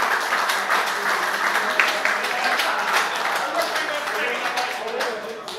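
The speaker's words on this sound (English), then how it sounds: "big round of applause for Greg McCallum" Audience applause for former rugby league referee Greg McCallum at a retro rugby league quiz event, a dense, steady wash of many hands clapping that holds for several seconds and fades slightly toward the end, with some voices mixed in.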